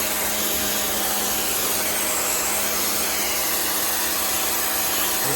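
A pressure washer sprays out the inside of a BBQ smoker, giving a steady loud hissing roar with a constant motor hum that runs unbroken throughout, with no voices.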